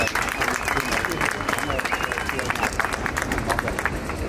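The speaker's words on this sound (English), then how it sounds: "how about a round of applause for Fiona and Morgan for making today happen" A crowd at an outdoor street demonstration against the Belt and Road project claps steadily and loudly throughout, with murmuring voices and cheers mixed into the applause.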